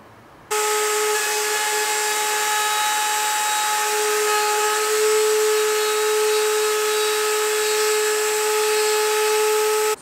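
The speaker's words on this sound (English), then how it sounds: "I'm going to use my router and round over the bottom of the legs" A handheld router rounds over the bottom edges of wooden bench legs for a tailgate bench, a loud steady high-pitched whine that starts abruptly and runs unbroken to the end.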